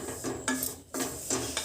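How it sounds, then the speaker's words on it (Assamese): Spice masala with gram flour fries in a pan as it is stirred, giving rhythmic scraping and clattering strokes over a soft sizzle, fairly close, with no talking. "এইখিনি অকণমান সময় ভাজিব লাগিব"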